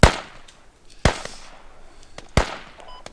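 Three sharp, loud gunshots from a distant sniper in the military shooter Squad, spaced irregularly about a second apart, each with a crisp crack and a short echoing decay; no talk over them.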